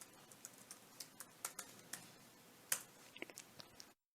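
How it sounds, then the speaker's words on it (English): Typing a password on a computer keyboard while logging into a Raspberry Pi: a quiet run of separate key taps at an uneven pace, with one sharper press near the end, then silence. "carefully type in the password you created and press enter"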